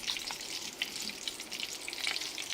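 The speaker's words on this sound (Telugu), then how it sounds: "వేగిన తర్వాత అదే ఆయిల్లో కొద్దిగా శనగపప్పు, ఆవాలు, జీలకర్ర వేసేసి కొద్దిగా ఎండుమిరపకాయలు" Chana dal, mustard seeds and cumin seeds fry in hot oil for a drumstick and mango pickle tempering, giving a steady close sizzle peppered with small crackles and pops, with no one talking.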